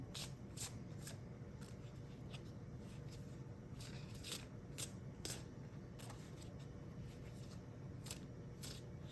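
Soft riffling and snapping of tarot cards being shuffled in repeated quick bursts, close by and quiet, with no talking.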